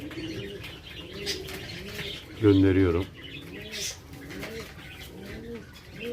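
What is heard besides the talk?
pigeons cooing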